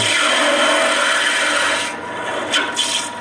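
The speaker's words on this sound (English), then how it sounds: "So I'll try to smooth this out a little bit here to save time with my skew." A skew chisel smooths a spinning wood blank on a lathe, making a loud, close, continuous rasping scrape that breaks up into short bursts as the tool lifts off near the end.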